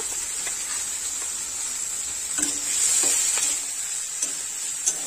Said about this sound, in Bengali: মশলা নাড়াচাড়া করে খুব ভালোভাবে কষাই করে নিতে হবে।